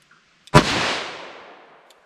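A single loud, close gunshot from a handgun firing Inceptor ARX plastic bullets in 10mm or .357 Magnum, a sharp crack followed by a long, fading echo.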